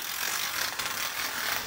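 An awning on its arms being rolled down makes steady, close ratchet clicking that blends into a dense rasping mechanical rattle for the whole stretch, with no talking.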